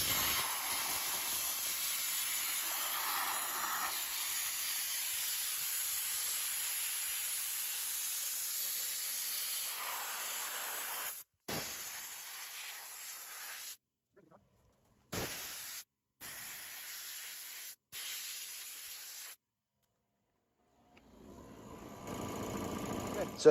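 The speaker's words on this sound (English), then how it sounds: "I have a feeling that compressor is going to kick on pretty much right away as soon as I start." An air compressor runs with a steady hiss and hum while an air tool is used, the sound cutting out in several short gaps near the end before resuming.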